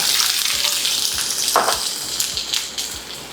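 Onion sizzles and crackles sharply in hot tempering oil with popped mustard seeds for a raw mango dal, a brief burst of frying with scattered pops and spatters.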